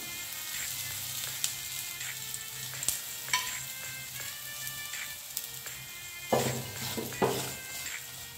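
Methi thalipeeth sizzling in a little oil on a pan, a steady close frying crackle throughout, with occasional scrapes and light taps of a utensil against the pan.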